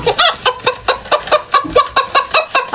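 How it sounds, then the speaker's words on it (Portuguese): A chicken clucking loudly and close by in a rapid, steady series of short, sharp clucks, about a dozen in under three seconds, with no talking over it. "É a galinha Cacho Blairs."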